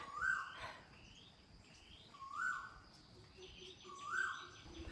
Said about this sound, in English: Do you hear the obnoxious bird, I call it?